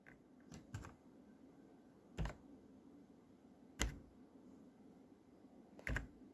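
Keys on a gaming keyboard are pressed one at a time, producing sparse, crisp clicks spaced a second or two apart against a quiet room.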